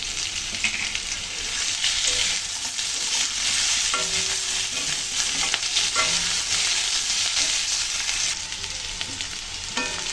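Malabar spinach stems, potato and slit green chillies fry in hot oil, a loud steady crackling sizzle that fills the whole stretch, with occasional spatula scrapes and stirs and no talking.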